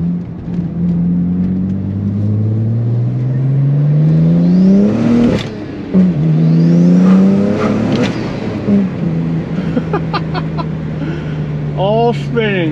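A turbocharged car engine revs hard several times, loud and close, each rev climbing and falling away, with a whooshing spool-down and sharp chirps near the end and voices talking over it.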